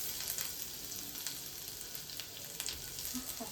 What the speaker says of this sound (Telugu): ఆయిల్ కొంచెం, అలాగే కొంచెం గార్లిక్, బటర్ వేసుకున్నాను